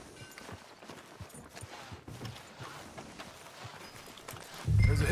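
A horse in Red Dead Redemption 2 trots with a soft, regular clip-clop of hooves over quiet ambience, ending in a brief louder low thump.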